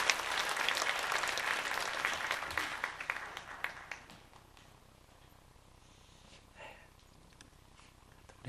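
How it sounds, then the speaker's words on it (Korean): Enthusiastic applause from a church congregation during a Sunday service fills the first few seconds, then fades out into near quiet with a few faint sounds. "우리 뜨거운 박수로"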